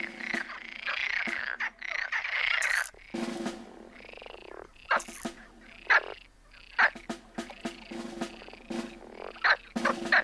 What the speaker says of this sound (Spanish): La rana común, la única que es común todavía, se prepara a voces para escoger sitio.